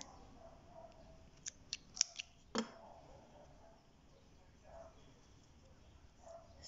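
Scissors snip crochet yarn while working a granny square mosaic tile: a few soft, sharp clicks and one louder cut, faint and close, with quiet talk around them.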